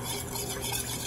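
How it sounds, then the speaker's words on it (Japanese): Brief, steady swishing of vinegar and sugar being stirred together in a bowl to make sushi vinegar, close and soft, lasting about a second. "よく混ぜます。"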